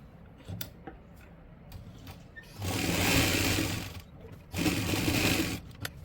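Two bursts of a domestic sewing machine running steadily as it stitches together the panels of a salwar, each run lasting over a second, with quiet handling pauses before, between and after.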